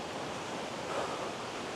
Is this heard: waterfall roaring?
yes